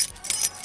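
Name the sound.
voice imitating car keys jangling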